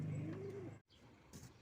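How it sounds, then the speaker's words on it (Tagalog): Pigeons cooing on a rooftop, a soft low coo rising and falling, followed after a brief gap by faint rustling and a short chirp. "Titingnan natin mga kalapati natin"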